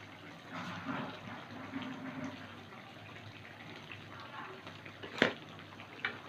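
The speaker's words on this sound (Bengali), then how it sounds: "মিক্সিং বাটিটা ধুয়ে একটু জল দেব।" Running tap water splashes into a mixing bowl as it is rinsed in a kitchen, a soft steady gush with a few clinks, fairly quiet, with faint speech nearby.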